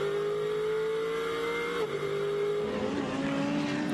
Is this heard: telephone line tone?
no